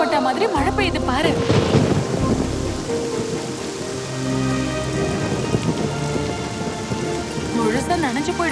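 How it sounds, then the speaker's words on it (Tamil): Steady rain pours down with a dense hiss that carries on throughout, with rumbling low thunder and wind buffeting the microphone at times. "நான் ஆசைப்பட்ட மாதிரி மழை பெய்யுது பாரு"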